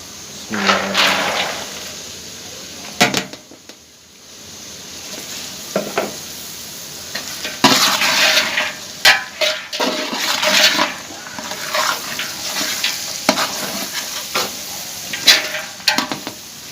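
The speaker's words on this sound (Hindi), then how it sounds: "मटरों को हमने इस तरह भून लिया है।" Peas and potatoes frying in a pan give a soft background sizzle, broken by repeated scraping and stirring strokes and occasional clinks of the spoon against the pan, with quieter pauses between bursts.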